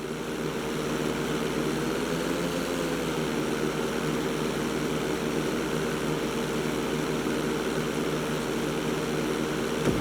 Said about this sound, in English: Take off and head for the marker at the end of the runway.